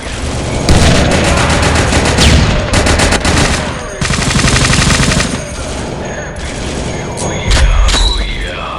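A World War Heroes video-game battle erupts with dense rapid gunfire bursts and heavy booms of a grenade explosion, loud and close, with mechanical clatter filling the whole stretch.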